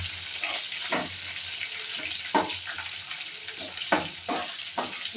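Chopped onions fry in oil with green chillies for a vermicelli upma, giving a steady close sizzle broken by several sharp scraping stirs spaced through the stretch, with no talk.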